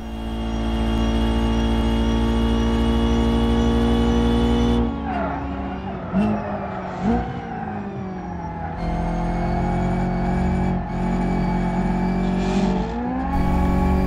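A car engine in BeamNG racing flat out on three wheels, a steady loud harmonic drone held throughout, dipping and wavering through the middle as the pitch shifts, with faint voices underneath.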